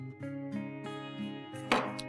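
A knife finely shreds radish leaves on a board, giving five or so crisp, evenly spaced cuts over a steady musical backdrop.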